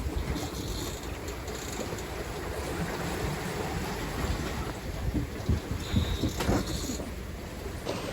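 Sailboat running at about six knots under a reefed jib in rough seas, with a steady broadband rush of wind and water washing past the hull, loud and continuous, with a few sharper splashes toward the end.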